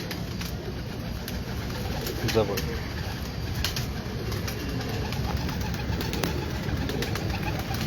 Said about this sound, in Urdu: یہ دیکھیں, یہ بھی میرا زریلا کبوتر ہے